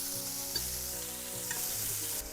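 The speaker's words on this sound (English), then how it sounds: "And I'm going to keep stir frying like this." Okra and meat sizzle steadily in a hot pan while being stir-fried, with soft scraping and clinking through the continuous frying hiss.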